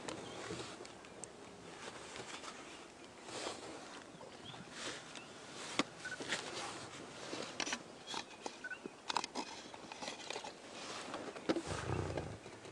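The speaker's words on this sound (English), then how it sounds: "listen to his friend is growling at him now" A male lion growling on a wildlife safari drive, low rumbling growls rising and falling amid faint outdoor ambience, with a heavier rumble near the end.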